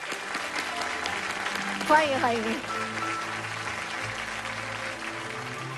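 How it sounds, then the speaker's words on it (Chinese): Steady, even studio audience applause on a Chinese opera TV program greets a veteran stage accompanist, continuing for several seconds with a voice briefly speaking over it. "我们用掌声欢迎他，有请。"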